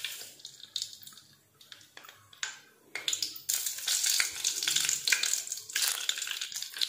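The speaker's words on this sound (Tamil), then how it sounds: "கடுகு வெந்தயம் நல்லா பொரியட்டும்." Mustard and fenugreek seeds splutter in hot sesame oil while a fish curry is being cooked. Irregular crackling pops start sparse, then thicken into a dense, steady sizzle, with no voices.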